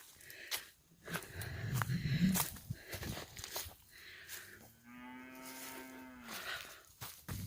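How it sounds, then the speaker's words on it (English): Cows in a field moo loudly and close by, with one long drawn-out low call after shorter grunts, over faint footsteps and outdoor rustle, with no talking. "I think the cows have found their way, and they're"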